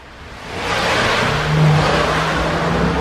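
Cars driving past nearby, a steady engine roar that swells and holds with a rising rev around the middle, filling the whole stretch with no talk.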